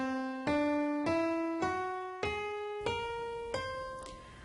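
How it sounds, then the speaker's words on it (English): Seven evenly spaced notes climb step by step in a steady ascending whole tone scale starting on C, each note struck cleanly and ringing briefly before the next. "These scales are all based on the C whole tone scale."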